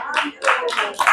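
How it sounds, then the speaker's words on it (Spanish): A church congregation clapping in praise during a Spanish-language service, a few rhythmic bursts of hand claps in quick groups, moderately near and alone with no speech. "amén, dele palmas al Señor."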